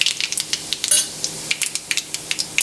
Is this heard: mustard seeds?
yes